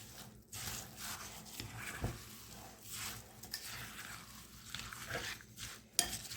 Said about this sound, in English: crushed up 2 cups of potato chips that we're going to mix in to our tuna and mushroom soup